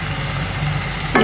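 Onions fry with cumin and coriander powder in a pan, a loud close sizzle with a stirring scrape at the end, no talking.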